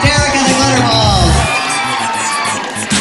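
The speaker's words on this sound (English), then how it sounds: "Give a nice round of applause. Derek and the Glitter Balls." An audience cheers and whoops for Derek and the Glitter Balls at a New York show, a loud burst of crowd shouting that thins out after a second and a half, with voices calling over it.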